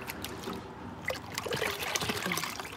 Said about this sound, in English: Dump out the water.